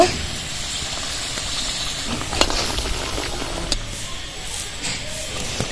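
Gokul pitha stuffed with coconut filling frying in hot oil, giving a steady broadband sizzle and hiss throughout with a few brief crackles and pops.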